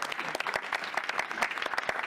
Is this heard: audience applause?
yes